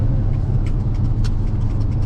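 A VW Arteon Shooting Brake plug-in hybrid's engine roars steadily at close range with a heavy low rumble, braking hard from 210 km/h on the Nürburgring.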